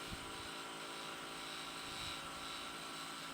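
Continuous high whine of a wood lathe as a small detailer tool cuts a coffee scoop on a tubed kit. The tone stays steady and fairly faint, with light scraping texture, for about three seconds, with no speech.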